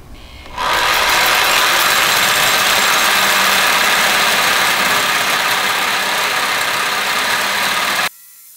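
A blade cuts slowly into stainless steel Garrett GTX turbo parts, giving a loud, steady, unbroken grinding whine for about seven and a half seconds before it stops abruptly.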